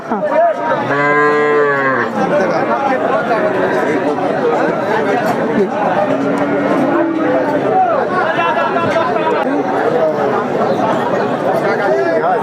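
Cattle and heifer calves low repeatedly at a busy livestock market, loud close moos rising over a constant murmur of crowd chatter and nearby voices.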